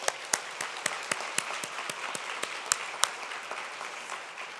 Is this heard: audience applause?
yes